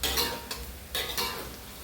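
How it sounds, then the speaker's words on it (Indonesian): Banana fritters frying in a pan, a steady sizzle broken by a few stirring scrapes and clinks of a utensil, close and moderately loud with no talking. "Ini goreng pisang guys"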